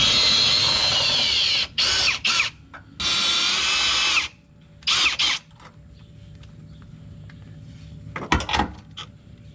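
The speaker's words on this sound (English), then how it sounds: "we're going to remove these 16mm bolts right here that are on the body mount brackets" A power tool drives out 16mm body mount bolts on a Jeep Wrangler JL Unlimited, loud close whirring bursts lasting a second or two each, separated by pauses, followed by a quieter stretch with a brief clatter near the end.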